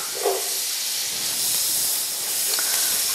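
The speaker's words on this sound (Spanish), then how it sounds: "En esta margarina vamos a cristalizar o saltear 1 taza de puerros." A cup of sliced leeks sautéing in margarine in a hot pan gives off a loud, continuous hissing sizzle that stays steady throughout, with no voices.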